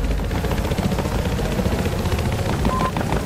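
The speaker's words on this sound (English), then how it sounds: "Transport chopper over there!" A transport helicopter flies overhead in the Battlefield Hardline video game, its rotor a dense, continuous thumping roar that is loud and near, with faint gunfire mixed in.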